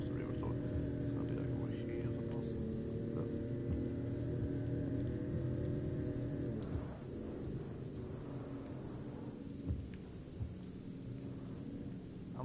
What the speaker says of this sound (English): 雨降ってきたな